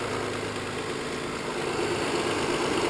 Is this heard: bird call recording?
no